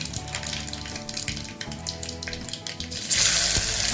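Mustard seeds and fennel seeds sizzle and crackle in hot oil in a pan, a steady close frying hiss that swells louder near the end.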